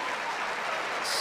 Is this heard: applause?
yes